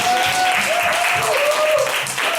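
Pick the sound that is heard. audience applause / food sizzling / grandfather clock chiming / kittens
audience applause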